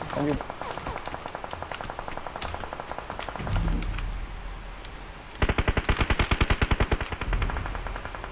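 Rapid automatic gunfire from a shooting video game rattles in long bursts, loud and close, with a separate harsher burst later, while players talk over the action.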